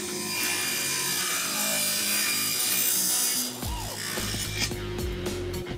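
A sliding table saw slices through the corner of a wooden board, giving a steady loud whine for about three seconds before the blade runs down into a lower, uneven spinning hum.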